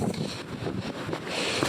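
Wind buffeting a microphone on a small hilltop during a winter walk in South Boston, a close, continuous rumbling roar with gusty surges.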